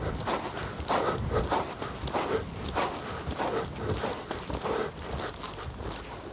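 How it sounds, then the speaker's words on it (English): Hooves of a ridden horse during a training ride at home, clip-clopping in an uneven repeating rhythm, fairly close and moderately loud, with nobody talking. "Good horse."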